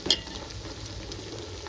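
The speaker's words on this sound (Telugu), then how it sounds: "ఇవి కూడా బాగా ఫ్రై చేసుకోవాలి" Ingredients for a chicken fry biryani frying in a pan with a steady, close sizzle, a brief scrape of stirring near the start, and no voices.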